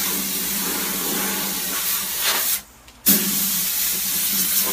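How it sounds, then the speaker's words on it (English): Steady loud hiss of compressed air spraying residue out of a mold, near and continuous, with a brief pause in the middle before the blast resumes. "I'm going to go spray any stuff that might be in here out"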